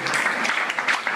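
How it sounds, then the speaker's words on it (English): Forum audience clapping briefly in agreement, a short, close burst of mixed hand claps that rises and falls unevenly over about a second. "Clap if we can."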